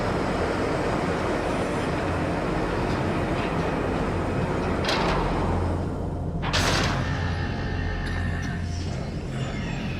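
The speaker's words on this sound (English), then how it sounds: "That's a badass door." Heavy door opening in the underwater video game SOMA, a loud continuous grinding rumble with two sharper mechanical bursts partway through, over constant low machinery noise.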